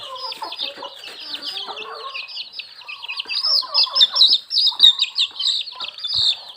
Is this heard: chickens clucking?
yes